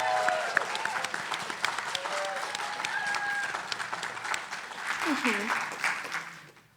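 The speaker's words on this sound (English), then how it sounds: "Round of applause." An audience at a FameLab science-talk competition final claps steadily as a speaker takes the stage, a dense wash of applause with a few whistles and cheers, fading out at the end.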